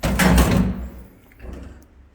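Metal doors of a vintage Otis traction dumbwaiter slide along their track, a loud close rumbling scrape that fades out, followed by a fainter shuffle.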